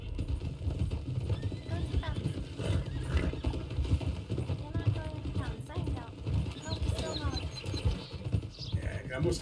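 Faint video-game horse hooves clip-clop in an uneven rhythm over a low hum, with an occasional whinny, from Red Dead Redemption roleplay.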